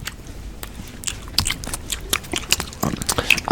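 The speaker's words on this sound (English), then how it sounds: "You know you're chewing that really loudly" Close, loud chewing while eating, with wet crunches and smacking bites in an uneven rhythm, right beside the listener.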